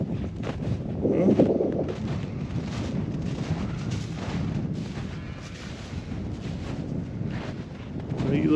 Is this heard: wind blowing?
yes